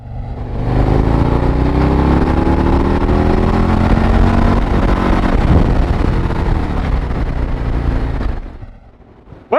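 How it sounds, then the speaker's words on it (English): A motorcycle engine held at high revs against its rev limiter, a loud sustained droning roar with rising harmonics, sputtering as it stutters at the limit before cutting off near the end. "that's the rev limiter"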